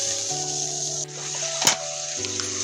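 Potatoes with turmeric sauté in a pan with a soft, steady sizzle, one sharp scrape or clatter in the middle, over a faint background tone.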